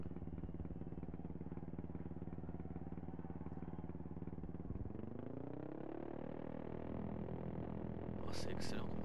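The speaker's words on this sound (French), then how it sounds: "Voilà, la bécane est démarrée." A Moto3 motorcycle engine in MotoGP 15 drones steadily at idle after being started, its buzzy tone shifting pitch midway, while someone talks over it.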